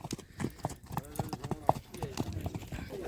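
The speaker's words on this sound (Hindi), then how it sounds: "आज चांद्राणी की घोड़ी है ये, संजय भाई की, अब्दुल भाई सवार है।" Racing horse hooves clip-clop in a quick, steady run during a race in Kutch, a continuous patter of beats over background noise.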